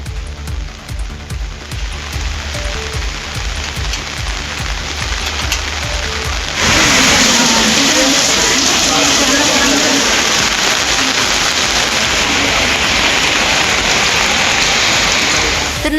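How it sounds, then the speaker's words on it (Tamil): Heavy rain pours down on a flooded road in southern Tamil Nadu as rainwater rushes across it, a dense steady hiss that swells louder partway through and carries on without a break. "தொடர்ந்து கனமழை பெய்ததால் சாலையில் மழைநீர் பெருக்கெடுத்து ஓடியது"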